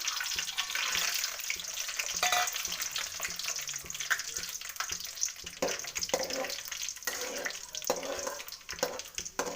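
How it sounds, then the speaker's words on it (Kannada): Chana dal frying in oil with curry leaves and chillies for puliyogare: a close, bubbling sizzle that runs continuously, with intermittent stirring scrapes and splashy crackle; faint background voice at times. "ಕಡಲೆ ಫ್ರೈ ಆಗಿದೆ"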